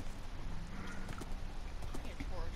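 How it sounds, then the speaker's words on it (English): Skeleton horses in Minecraft, with quick clip-clop hoof sounds under the excited chatter of several players. "we just got fucking skeleton horses!"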